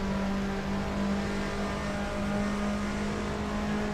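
Castrol Supra race car in the Super GT video game, its engine holding a steady, droning high-revving note that stays loud and continuous without a break.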